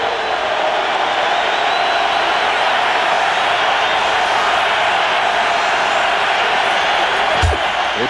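A football stadium crowd roaring on third and long during a Saints at Buccaneers NFL game, a loud sustained wall of cheering and noise with a brief thud near the end.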